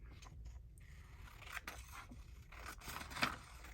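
Scissors snip through a paper doily in a quiet room, with a few soft, close cuts and light paper scraping. A sharper snip stands out near the end.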